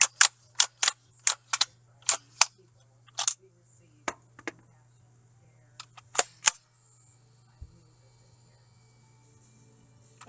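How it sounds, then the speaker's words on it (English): Adventure Force Havoc toy blaster being primed, giving a quick series of sharp plastic ratchet clicks, then sparser clicks and a final few snaps over a faint steady hum. "Lots of annoying ratchet sounds."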